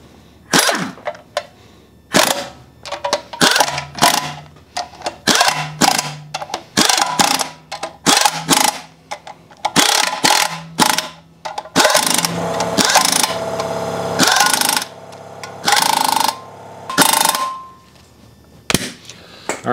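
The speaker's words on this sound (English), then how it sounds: "Now we can go after it with an impact. Lowest setting" An impact wrench on its lowest setting snugs the rear main seal bolts of a 7.3 Powerstroke diesel, firing many short, sharp rattling bursts in an uneven rhythm, loud and close, with brief pauses between bolts.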